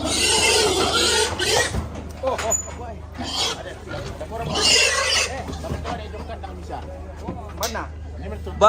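Pigs squeal in sharp, loud bursts at a Rambu Solo' funeral ceremony in Kadundung, Balusu, Toraja. The cries rise and fade over a steady crowd hubbub, with people talking throughout.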